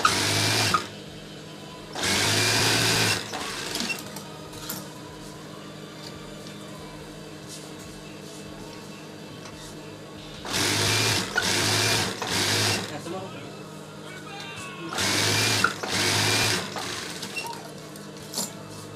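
Sewing machine stitching a diagonal seam on a tasselled pillowcase, running in several loud bursts of a few seconds each with quieter pauses between, while a person talks throughout.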